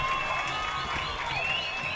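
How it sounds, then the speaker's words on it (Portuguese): Steady applause from a large stadium crowd at the Operário versus Costa Rica Campeonato Sul-Mato-Grossense 2023 final, dense and continuous throughout, with a faint voice and some crowd noise mixed in. "Receba aí os aplausos do torcedor operariano."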